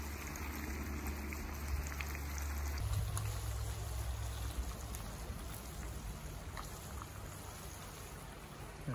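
Chicken fries in its own rendered grease, giving a steady, close crackling sizzle that runs the whole time. The tone shifts slightly a few seconds in.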